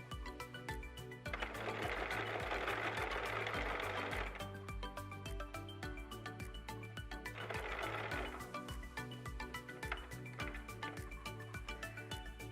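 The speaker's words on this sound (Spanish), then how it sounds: "saco el alfiler antes de empezar a coser" A sewing machine stitches a fabric face mask in bursts, with a fast regular mechanical rattle running in two longer stretches between pauses, while a steady low hum continues underneath.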